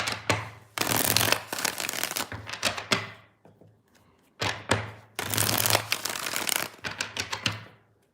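A deck of tarot cards is riffle-shuffled in close bursts, each a loud, fluttering rush of cards ending in sharp taps, with pauses between shuffles and no talk.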